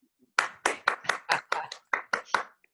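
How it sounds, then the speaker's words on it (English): About ten separate hand claps ring out in a loose, slightly uneven rhythm, crisp and close, from a small audience joining a webinar, with silence between them. "The audience can clap if you feel like."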